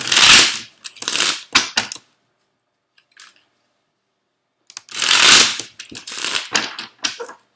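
Cards riffle and shuffle in two loud bursts with crisp flicking and tapping, separated by a quiet pause with a faint knock.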